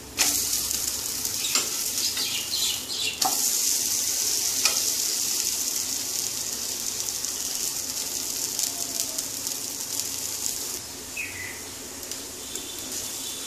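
Dosa batter sizzles steadily on a hot griddle over a gas flame, a dense continuous frying hiss with a few small crackles and pops, close and fairly loud throughout, with no talking.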